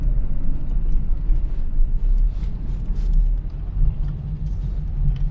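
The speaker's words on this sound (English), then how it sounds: "Just out for driving my Renault 9." A Renault 9 car drives along the road with a steady low engine rumble and road noise throughout, fairly loud and close, with no talking.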